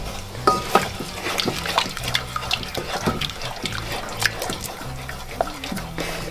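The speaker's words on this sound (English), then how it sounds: "Keep stirring it." Whisk or spoon stirring milk into a flour-and-butter sauce in a pan, with soft irregular scraping and liquid sloshing, close and steady throughout.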